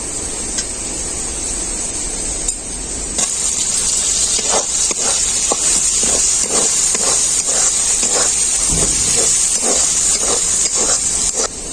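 Tomato dropped into hot spiced oil in a pan while cooking khichuri, a loud steady sizzle and hiss with small crackling pops throughout, close up and without talk.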